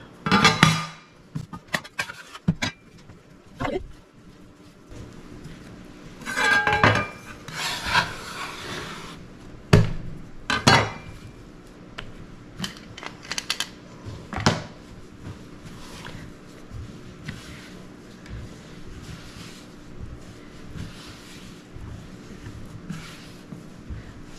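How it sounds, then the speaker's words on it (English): Bread dough for hot cross buns being kneaded by hand on a table, giving soft rubbing, pressing and occasional thumps in uneven bursts, close up, with no voices. "you're going to want it to rest for three minutes sitting on the table after you finish kneading it"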